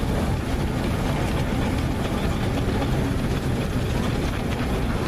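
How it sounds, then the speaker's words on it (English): Large vintage engine running at the Anglesey vintage rally, a loud continuous low rumble and clatter, steady throughout at close range. "Coming around next, there's a fine big engine."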